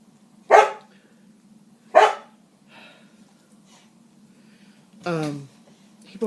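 A dog barks indoors, two sharp loud barks a second or so apart, then a softer yip and a longer whining bark, over a steady low hum in a quiet room.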